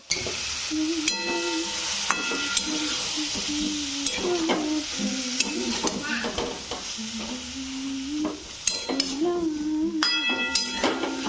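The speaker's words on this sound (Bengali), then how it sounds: "তো এবার ওই সবজিগুলো আর চিকেন ভাজাগুলো সমস্ত কিছু এর মধ্যে মিক্সড করে নেব ভালো মতন।" Fried chicken pieces and vegetables being tossed together in a hot pan, with continuous sizzling under repeated spatula scrapes and occasional metallic clinks of utensil on pan.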